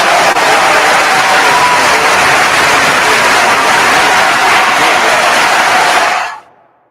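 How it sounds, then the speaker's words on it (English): Audience applause at a morning meditation gathering: loud, dense, continuous clapping that holds steady for about six seconds and then abruptly fades out. "Let's clap it up for that one"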